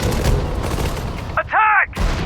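Battlefield gunfire from the desert-war strategy game Sudden Strike 4, set at El Alamein: dense, continuous rattling shots and booms, briefly interrupted by a shouted command voice.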